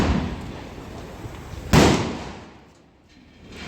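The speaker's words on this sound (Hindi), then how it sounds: "और बम पटाखे तो फूट ही रहे हैं" Diwali firecrackers go off in Rohtak, with one sharp, close bang standing out from a background of continuous crackling and distant pops, which then fades away.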